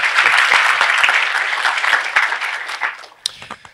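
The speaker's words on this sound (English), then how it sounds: "Thank you for clapping." An audience at the Hackfest 2015 security conference in Quebec City applauds before a talk: dense, loud clapping that gradually fades to a few scattered individual claps.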